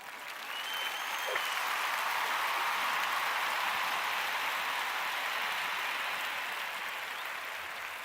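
A canned applause sound effect plays on a football talk show: a dense, even wash of many hands clapping that swells in, holds steady and tapers slightly at the end, with no talking over it.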